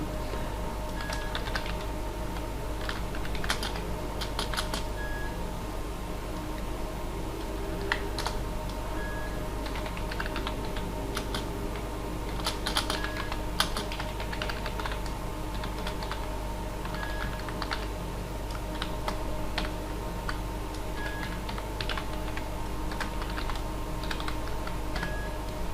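Code being typed on a computer keyboard, a long run of quiet, irregular key clicks and taps with brief pauses between bursts, close by and with no talking over it.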